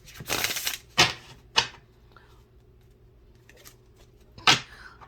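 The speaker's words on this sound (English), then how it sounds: "Not me trying to cut a big old chunk of cards here, and the deck's not even that big." A small oracle card deck is cut and shuffled in several quick, crisp bursts of riffling, separated by quiet pauses.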